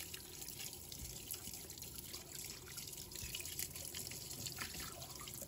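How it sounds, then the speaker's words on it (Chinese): A large fish is rinsed under a running kitchen tap, the belly washed clean, with steady splashing water and small irregular splatters, faint and continuous without voices. "把鱼腹里面的残留的血污给它清洗干净"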